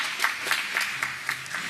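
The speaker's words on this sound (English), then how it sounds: "That's worth clapping for." Sparse clapping from a congregation at a Sabbath service, about six or seven distinct claps in a loose, uneven rhythm, fairly faint and heard over a steady room hum.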